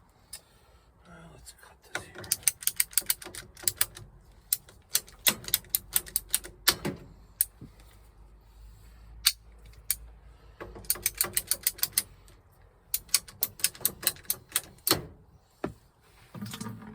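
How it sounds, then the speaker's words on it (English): Ratcheting PVC cutter clicking through a pipe in rapid bursts of sharp mechanical ticks, pausing between squeezes, close and fairly loud, with no talk. "let me get my PVC cutter to cut that"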